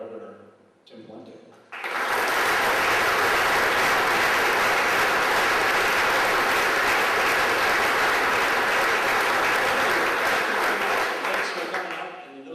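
An audience at a Marshall Chamber of Commerce event breaks into sustained applause welcoming Minnesota Governor Tim Pawlenty, a dense roar of clapping that swells quickly after a spoken introduction and holds for about ten seconds before tapering.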